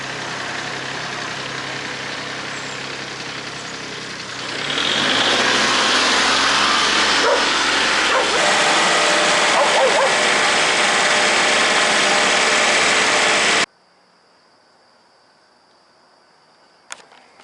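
A loud tractor engine rumbles steadily, its broadband roar growing after a few seconds before cutting out abruptly, leaving near silence with a faint tone.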